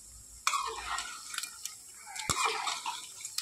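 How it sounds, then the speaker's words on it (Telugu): Mutton pieces, about a kilo, frying in oil for mutton pachadi, a quiet hiss with sharp clinks of a utensil against the pan and a brief stirring rustle, close and faint. "మటన్ని ఆయిల్లో వేసుకొని ఫ్రై చేస్తున్నాను"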